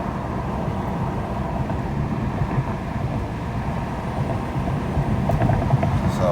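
Steady broadband road and wind roar from a moving 2001 BMW E46 wagon with the window down, continuous and fairly loud, with faint rattles and squeaks near the end.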